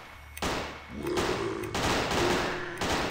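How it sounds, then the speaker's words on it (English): Rapid automatic gunfire from the video game Dead Place rattles in several close, loud bursts separated by brief gaps. "rapid fire!"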